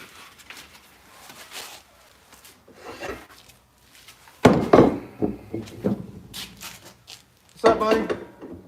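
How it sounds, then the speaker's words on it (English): Scotch-Brite finishing on the small wheel, working into the curve of a knife at a knife-making shop; intermittent rasping, rubbing passes with louder bursts near the end, fairly close. "we'll jump back to the small wheel because I can't get into that curve to Scotch-Brite it with the big wheel"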